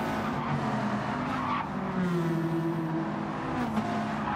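A Lamborghini slides out of shape in Gran Turismo 7, its tires squealing in long wavering tones over a constant engine roar, loud and close with no voices.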